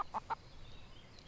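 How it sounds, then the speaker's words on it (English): A chicken in the Everdream Valley video game gives three quick, close clucks in a rapid row, then falls quiet over a faint background hum. "Cute little chicken."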